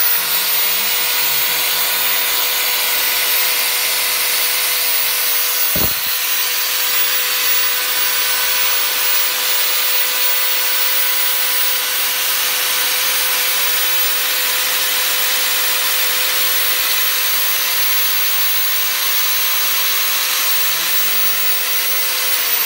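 A Total 9-inch angle grinder runs continuously at full speed, giving a loud, steady whine with a constant tone throughout and no talk.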